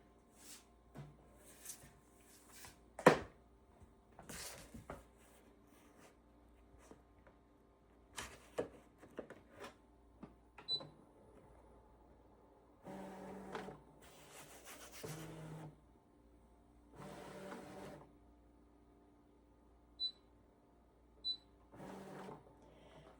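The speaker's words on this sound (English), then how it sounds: "I'm going to feed it through, but I'm going to scan it first" A Brother ScanNCut machine feeds and scans quilting fabric, giving quiet intermittent whirring and mechanical clicks with short bursts of motor noise and soft rubbing between pauses.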